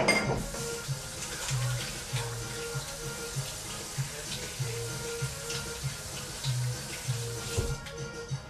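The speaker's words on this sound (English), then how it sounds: "Let me wash my hands." Tap water runs steadily into a sink while hands are washed under it, a close, continuous splashing stream with rhythmic rubbing and splatter changes throughout.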